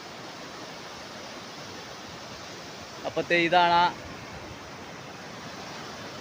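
Sea waves wash onto the beach beside Thalassery Fort in Kerala as a steady, even roar of surf. Someone speaks briefly over it midway through.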